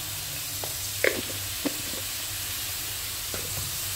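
Celery and prawns saute in a pan seasoned with fish sauce, giving a steady low sizzle with a few light clicks and stirring scrapes, with no talking.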